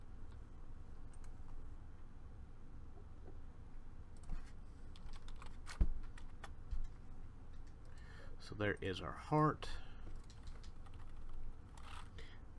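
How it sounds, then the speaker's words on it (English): Keys tapping on a computer keyboard in uneven short bursts, fairly faint, while someone talks over part of it. "I have always been terrible at typing."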